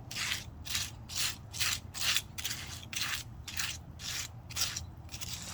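Spackling spatula smoothing the top of colored cement for lawn care: soft, rhythmic scraping strokes, about a dozen evenly spaced rasps, close and fairly quiet with no talking.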